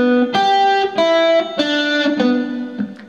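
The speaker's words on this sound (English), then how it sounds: "It's a great stock guitar lick." A blues guitar lick played on open strings and the second string, several clean picked notes ringing out in a repeating phrase, loud and close with no voice.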